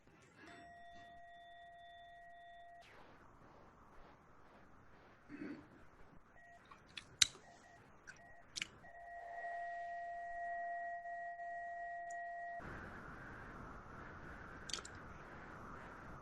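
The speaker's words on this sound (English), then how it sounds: "Okay, can we hear a bell, please?" A mindfulness bell rings during a mindful-eating session for educators, a faint, pure sustained tone heard twice with a quieter stretch of soft clicks and small knocks between the two rings.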